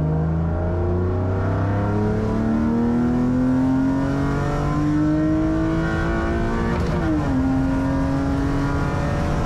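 A BMW E36 323ti at full throttle, its engine note climbing steadily and loud, dipping once at a gear change before rising again, heard from inside the car without talk.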